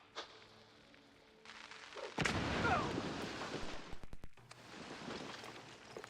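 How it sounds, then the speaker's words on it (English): Dynamite blast in the cartoon detective game MOUSE: P.I. For Hire: a sudden loud boom after a quiet stretch, followed by rumbling debris and a quick cluster of sharp cracks, then a lower murmur. "Detonate the floor."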